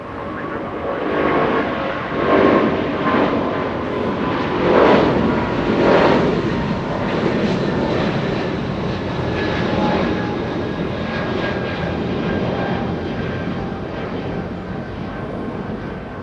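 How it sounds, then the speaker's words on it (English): A United Boeing 777 jet takes off at LAX, its engines making a loud, sustained roar that rises and swells over about sixteen seconds, heard from a moderate distance with no talking. "Big 777 United getting a move on."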